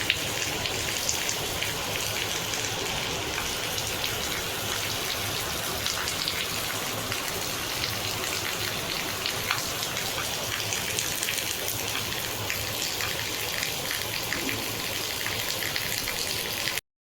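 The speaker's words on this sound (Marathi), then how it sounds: "खूप जोरात पाऊस चालू आहे आणि आम्ही छत्रीसुद्धा नाही आणली सोबत." Heavy rain pours down steadily in a dense, even roar of drops hitting surfaces nearby, continuous and loud for the whole stretch with no talking.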